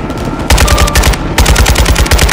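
Loud close machine gun fire in Call of Duty: Modern Warfare II, rapid sustained bursts of evenly spaced shots separated by brief pauses, with no talking.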